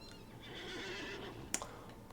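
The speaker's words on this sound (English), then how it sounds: "you could call your horse and you could summon them at any time" A horse whinnies in the Disney Infinity video game, a drawn-out neigh that rises and trails off, followed by a brief sharp snort, loud and close, with no talk over it.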